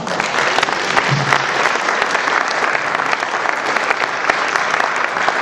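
An audience at a cantor's concert applauds steadily for several seconds, a dense wash of clapping with no break.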